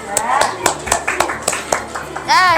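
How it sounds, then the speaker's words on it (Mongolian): Children and adults clap together at a school event, a brisk burst of hand claps under someone talking, followed by a rising sung or exclaimed voice at the end. "За, алга ташаа дөгөөрэй."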